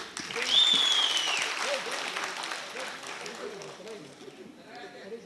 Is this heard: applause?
yes